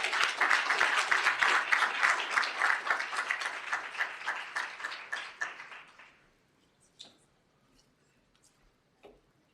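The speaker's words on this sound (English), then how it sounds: "you guys will all join me in a round of applause and welcome them in our panel" An audience applauds to welcome a panel at a university summit on foreign policy and civil discourse: a full round of clapping for about six seconds that tapers off, followed by a few isolated faint claps and taps.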